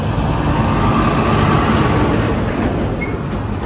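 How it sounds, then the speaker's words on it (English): A dump truck engine rumbling loudly and continuously nearby, a heavy low drone with no pauses and no voices over it. "Dump truck."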